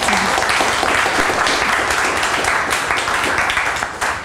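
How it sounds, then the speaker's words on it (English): An audience applauds a brownbag talk speaker in a dense, continuous wash of many hands clapping, loud and sustained throughout without letting up. "Shawn a round of applause"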